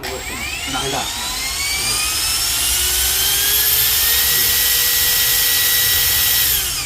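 A brushless motor in a rechargeable power tool spins up from slow to high speed, its whine climbing steadily and then holding as a loud, close, sustained drone with no talking.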